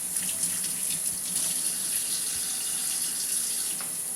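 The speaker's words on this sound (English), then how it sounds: "I'm going to run them under the water, clean them very well" Tap water runs steadily from a kitchen faucet over dirty beets being rinsed clean, a continuous close splashing hiss with small irregular spatters throughout.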